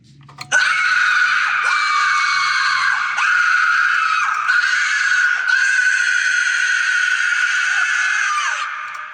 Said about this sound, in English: it's going to play our scare sound and our scare animation